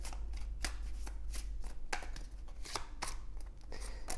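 Tarot cards being shuffled and drawn, with quick, crisp riffling and slapping at close range, repeated in rapid irregular bursts over a low steady hum.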